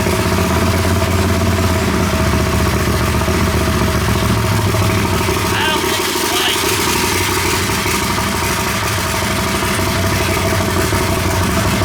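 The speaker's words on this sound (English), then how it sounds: "Fuel injected, turbocharged, Harbor Freight motor." A fuel-injected, turbocharged Harbor Freight 670 V-twin engine runs loud and close, with a steady rumbling, clattering idle that fills the whole stretch.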